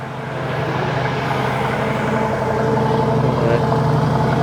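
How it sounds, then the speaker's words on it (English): A large Bentley Bentayga EWB W12 engine idling with a steady, deep rumble and low hum, continuous and fairly loud, close up. "Let's go and listen to the W12 engine."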